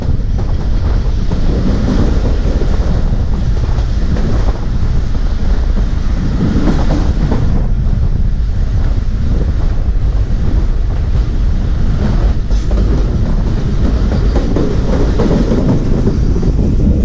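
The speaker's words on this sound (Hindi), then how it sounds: "ये फ्रेट ट्रेन थी, फ्रेट ट्रेन थी ना" A container freight train rushes past close by, heard from aboard a passenger express, producing a loud continuous rumble and clatter of wheels on rails mixed with wind roar for a long stretch.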